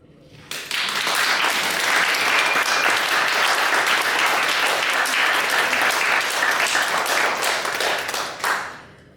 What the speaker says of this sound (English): if you cannot click, just clap.